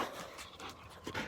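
A dog pants in quick, uneven bursts close to the listener, outdoors near a boat, with a faint patter of movement and no speech.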